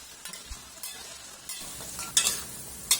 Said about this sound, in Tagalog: Kapag mainit na, prituhin natin dito yung ating patatas at ng carrots.